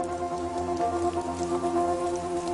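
Steady rain pours down on foliage where tiny hummingbirds seek a leaf to bathe on, a dense continuous patter without talk, overlaid with sustained tonal hum.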